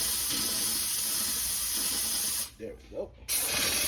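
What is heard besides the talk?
steamer spraying water on sneakers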